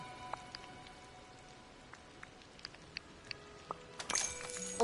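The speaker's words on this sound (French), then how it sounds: "Il pleut." Light scattered raindrop patter in the video game Disney Dreamlight Valley, with sparse ticks and taps over a quiet background, growing a bit denser near the end; no voices.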